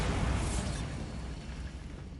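A Bombarda explosion spell goes off in Hogwarts Legacy, a loud, dense blast that opens strongly and then tails off into a rumbling, crackling decay over about two seconds.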